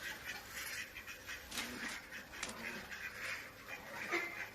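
Muscovy ducks resting outdoors quack faintly in the background, a low steady chorus of soft calls with constant ambient noise and no clear speech.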